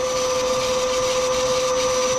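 Lathe drills up the middle of a Bantam pump plug with coolant running, a steady, loud whine with a sustained tonal hum and constant grinding hiss, continuous and without talk.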